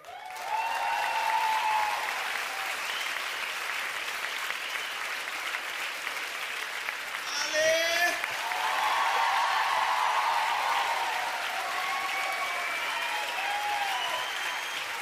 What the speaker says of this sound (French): J'aimerais qu'on applaudisse sur scène ce soir